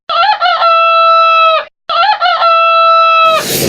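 A rooster crows twice at a farm animal fair, each loud, close cock-a-doodle-doo drawn out and clear, separated by a short pause, with clucking and bustle at the end.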